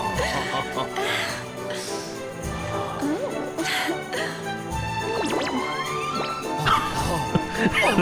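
A dog barking and yipping in the video game Dragon Quest XI, repeated short woofs and a whimper over game music, with a person talking intermittently.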